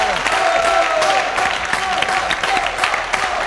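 An audience applauds the cinema team on a Baku television show, a dense, steady wash of clapping with a faint tonal ring running through it and voices mixed into the noise.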